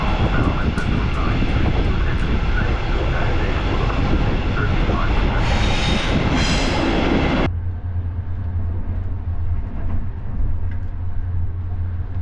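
Nightjet sleeper train from Zurich to Amsterdam running near Arnhem, a steady loud rumble and roar of the moving train throughout, with the tone abruptly shifting to a deeper hum partway.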